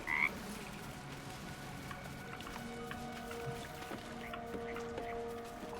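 Frogs croak in the video game Baldur's Gate 3, a chorus of repeated throaty calls over a wet, squelchy swamp ambience, steady and moderately close, with no clear talking.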